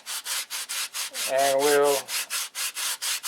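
Hand sanding the inside of a wooden model fuselage gives steady rhythmic back-and-forth rasping strokes, close and even, with someone briefly talking partway through.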